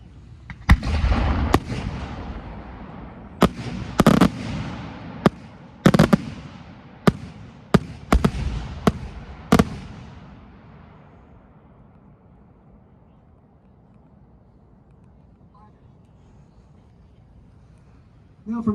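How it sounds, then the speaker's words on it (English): A 5-inch four-break aerial firework shell at a fireworks festival gives a rapid series of sharp, loud booming bursts over several seconds, then fades to faint crowd ambience. "We have a 5-inch 4-break shell from Stuart Ersick. 4-break shell, you'll see probably 3 color breaks and a bottom shot."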